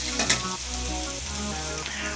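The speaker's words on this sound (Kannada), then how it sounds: "ವೆಜಿಟೇಬಲ್ಸ್ ಎಲ್ಲ ಚೆನ್ನಾಗಿ ಫ್ರೈ ಆಗಬೇಕು" Onions and vegetables frying in oil for fried rice produce a loud, dense, even sizzle, with a couple of brief clinks at the start.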